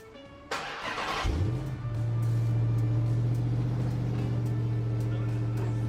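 A supercharged V8 in a Dodge Hellcat cranks and fires to life, then settles into a loud, steady, throbbing idle with a rising rev, close and dominant with faint voices in the background.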